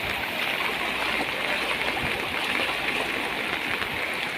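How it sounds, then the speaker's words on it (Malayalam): Floodwater pours over its banks and across a road in Malappuram, making a dense, constant rush of running water close by. "റോഡ് മൊത്തം കരകവിഞ്ഞൊഴുകുന്ന കവിഞ്ഞൊഴുകുന്ന അവസ്ഥയാണ്"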